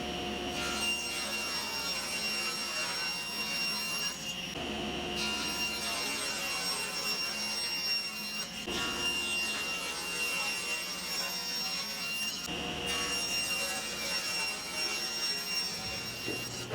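A table saw rips plywood into vertical rails with the fence set at 4 inches, a steady high motor whine broken by several cutting passes, each with a brief shift in tone, close and alone.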